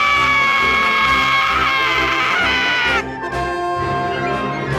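Luffy from the One Piece anime lets out a loud, sustained scream lasting several seconds, dense and strained over music and background sound, easing slightly near the end.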